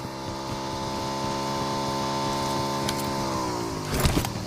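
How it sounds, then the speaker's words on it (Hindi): A motorbike engine in the battle-royale game BGMI drones steadily and close. Its pitch sags toward the end before a brief louder burst. "अरे नहीं, बाइक आई"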